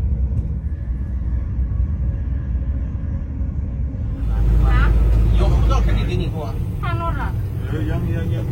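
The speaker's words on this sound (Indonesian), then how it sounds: "Dari stasiun Mohan ke border kita naik bus." A bus rolls from Mohan station toward the border with a steady low engine rumble underneath, which swells briefly, while people talk nearby over it.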